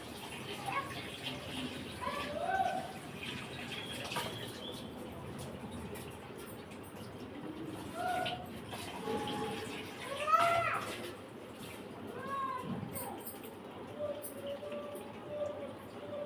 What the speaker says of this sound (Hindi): अब मैं इनको धो लेती हूँ